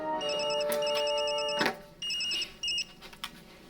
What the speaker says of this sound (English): Just then, the phone rang.